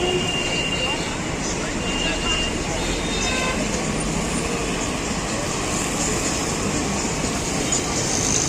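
A train rumbles past in heavy rain and floodwater in Pune, a steady, loud wash of noise that fills the whole stretch, with a faint horn-like tone riding on top.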